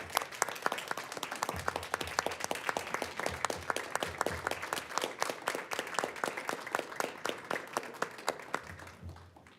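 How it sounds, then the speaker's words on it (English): An audience gives a round of applause for a retiring school-district administrator at a meeting, with dense, steady clapping from a roomful of people that carries on for several seconds before starting to thin at the end. "join me in giving her a round of applause"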